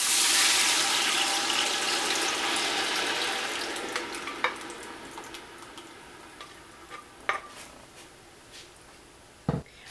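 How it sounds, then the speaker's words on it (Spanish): A blended tomato mixture hits hot oil with a loud, bright sizzling hiss that gradually fades over several seconds, followed by scattered sharp clinks and ticks of a utensil against the pan. "Para agregar aquí el licuadorazo que molimos. Ahora aquí ya se lo vamos a agregar."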